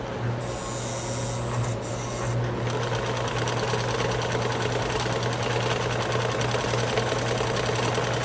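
A Necchi Supernova sewing machine stitches a square zigzag pattern, a loud, close, steady mechanical chatter with a rapid even needle rhythm and a low motor hum running throughout.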